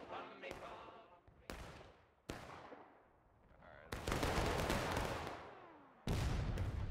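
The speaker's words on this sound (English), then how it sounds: "Fire your rifle." Rifle volleys in the Civil War game War of Rights: several loud, sharp cracks at irregular spacing, one sustained ragged burst of overlapping shots from many muskets, then another sharp report, with reverberant tails.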